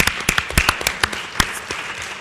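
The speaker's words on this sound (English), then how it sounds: "So I'd like to give them a round of applause." Scattered audience applause at a journalism ethics conference, a handful of distinct sharp claps spaced irregularly, fairly close and moderately loud, thinning out toward the end.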